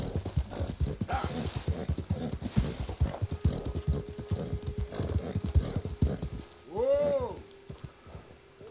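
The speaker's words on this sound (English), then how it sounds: "And this horse is super slow." Horse hooves clip-clop at a steady walking pace in Red Dead Redemption 2, a slow-moving horse plodding close by. A voice talks over the hoofbeats for most of the stretch. Near the end, a brief whinny-like call rises above them.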